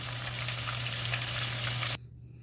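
Lamb pieces for stew sear in a hot pan with a loud, steady sizzle that runs without a break, then cuts off sharply near the end, leaving only a faint hum.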